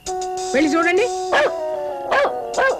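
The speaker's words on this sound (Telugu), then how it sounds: "కుక్క ఎందుకు అరుస్తుంది చూడండి రా." A dog outside a house in a Telugu film scene gives several sharp barks spaced about a second apart, heard close and mixed with people talking.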